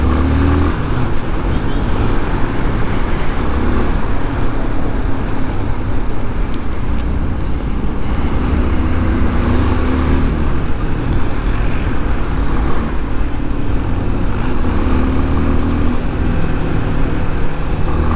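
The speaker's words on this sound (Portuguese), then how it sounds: "Agora fudeu, moto pra caralho aqui." Motorcycles pass along a road near a workshop comparing a Honda XRE and a Honda Lander 250, producing a steady, loud engine drone that runs throughout.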